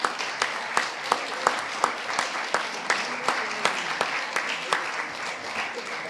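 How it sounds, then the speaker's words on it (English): Audience applause for a panel at a policy forum, a moderately quiet patter of clapping with a few sharp, distinct nearby claps standing out in a loose rhythm. "join me in another round of applause for this great panel"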